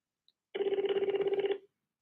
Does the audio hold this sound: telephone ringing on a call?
yes